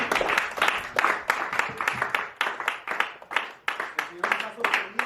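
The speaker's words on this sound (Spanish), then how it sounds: "aplauso al Señor con todo su corazón" Church congregation clapping to the Lord in a series of sharp, rhythmic bursts, close and fairly loud, with voices speaking and calling out between the claps.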